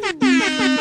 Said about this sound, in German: Jetzt doch ne Tröte